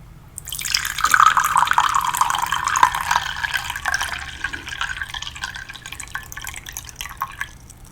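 Tea poured into a cup in a quiet indoor setting: a steady trickling stream that starts abruptly, swells, then thins into scattered drips, close and fairly loud, with no talking.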